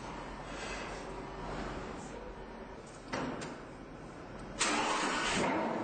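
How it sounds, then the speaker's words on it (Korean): A supercar engine cranks and fires up amid steady mechanical noise, with a sharp jump in loudness near the end as it catches and roars close by. "시동을 거는 순간"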